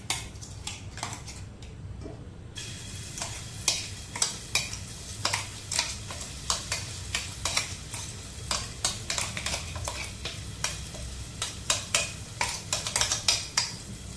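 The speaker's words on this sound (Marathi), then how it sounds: "हो मसालो आता बारीक फ्लेमीर न्ही बरो तुम्ही भाजून घ्या." Ground coriander-garlic masala fries on a low flame, a steady soft sizzle broken by repeated sharp scrapes and clinks of a spoon stirring against the pan, with no voices.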